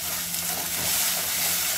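Onions frying in a pan for matar mushroom curry, a dense, even crackling sizzle that stays close and fairly loud throughout, with no talking.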